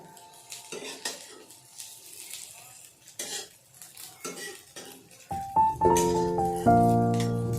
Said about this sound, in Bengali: এদিকে পেঁয়াজ, শুকনো লঙ্কা, জিরা ফোড়ন দিয়ে সঙ্গে দিয়েছি।